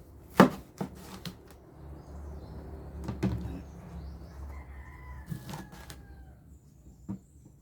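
A knife chopping banana heart on a board, a few sharp spaced cuts over a low background hum, with a rooster crowing faintly in the distance.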